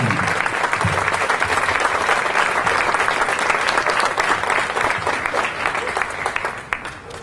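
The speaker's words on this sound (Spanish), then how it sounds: "pido un aplauso muy grande para Nico y para todos los muchachos" An audience at a political party's local opening applauds for a member and his comrades, a dense steady wash of clapping that holds loud for several seconds before slowly thinning near the end.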